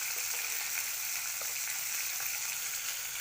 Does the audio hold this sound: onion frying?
yes